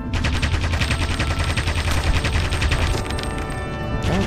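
Gunfire in a World War II video game: loud, dense automatic fire that rattles continuously for the whole stretch, with no pauses and no talking.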